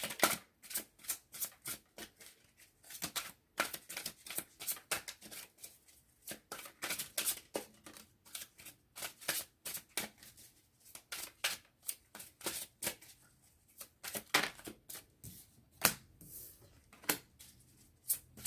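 Tarot cards shuffled by hand in a long run of crisp, rapid riffles and flicks, loud and close, with short pauses between bursts and no talking.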